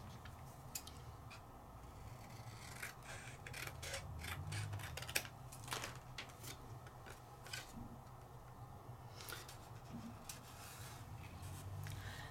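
Scissors snip a small piece off the bottom of a paper animation stamp. The quiet, scattered crisp cuts and rustles sound close by, with no voices.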